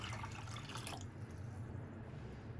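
Water is poured into a cooking pot over a leg of mutton, a close splashing pour for about a second that fades to a faint trickle and quiet background.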